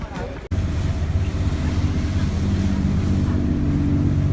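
Constant engine drone and rushing water of a moving boat on the Venice lagoon, with wind buffeting the microphone after a brief cut near the start.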